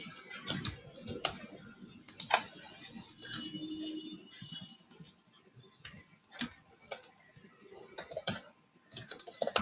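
Typing on a computer keyboard while entering code during a programming session, irregular bursts of sharp, close key clicks separated by brief pauses.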